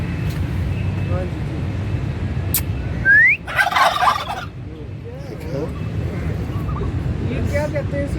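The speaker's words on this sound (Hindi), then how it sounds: "इंग्लिश में टर्की और उर्दू में पीरू" A turkey lets out a loud, warbling gobble nearby in answer to a whistle, over steady outdoor background noise, with brief talk and a short whistle-like sound around it.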